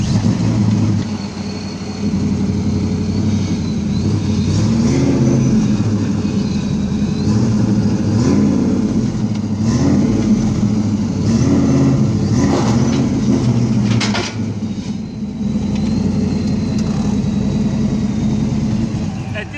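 Engine of a car running steadily at low speed while being driven up onto a Master Tow 80THD tow dolly, a continuous mid-level rumble with slight swells as the throttle is worked.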